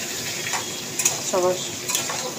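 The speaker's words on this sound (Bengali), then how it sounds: "তো একটু ভাজা ভাজা হয়ে যায় বেগুনটা" Eggplant pieces fry in a pan for begun posto, a soft sizzle under stirring and scraping of a utensil against the pan, close and fairly quiet, with a few brief clinks and a voice speaking faintly.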